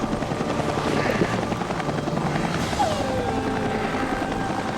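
A helicopter in the video game Geist drones loudly and continuously with a steady rotor wash and engine roar that fills the whole scene.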